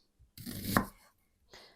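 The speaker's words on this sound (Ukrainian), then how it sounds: "Ось так нарізаю всю цибулю" A single brief chopping sound of a knife slicing an onion on a board, followed by a quieter second cut.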